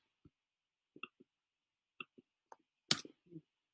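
Mouse clicks while trimming and editing audio in Final Cut, a few sharp, close clicks spaced out over a quiet background, ending with a slightly louder cluster.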